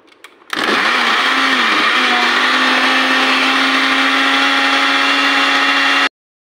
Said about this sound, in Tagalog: Yan yung biniblend natin na bagdonis, mint, dill, isang pirasong sibuyas, isang pirasong luya